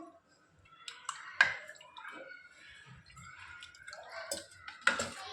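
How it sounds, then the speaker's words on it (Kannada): Water poured into a thick batter and stirred, with wet drips, squelches and light clicks of the spoon against the bowl, quiet and close, no talk. "ಅದಕ್ಕೆ ಸ್ವಲ್ಪ ನೀರು ಆ್ಯಡ್ ಮಾಡ್ಕೊತಾ ಇದ್ದೀನಿ"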